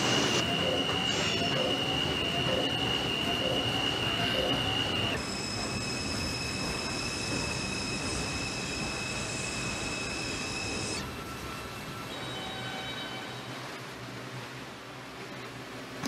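A simulated R142 New York subway train on the Manhattan-bound 2 line runs along the track in the Hmmsim 2 train simulator, with a steady rumble, wheel squeal and sustained high motor whines that shift pitch in distinct steps.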